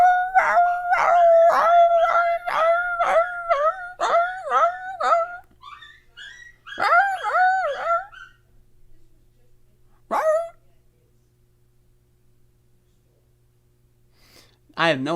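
A doodle dog downstairs barking in rapid repeated bursts and breaking into drawn-out howls, fairly close and loud, then pausing before a final short bark and howl.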